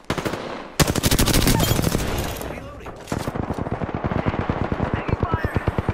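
Rapid automatic gunfire in a shooter video game, loud sustained bursts of machine-gun fire with a brief pause, then a second long stream of evenly spaced shots.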